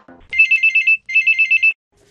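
An electronic telephone ringtone signals an incoming listener call on a Marathi radio phone-in show on Akashvani Pune. It trills in two clear bursts with a short gap between them, alone and close.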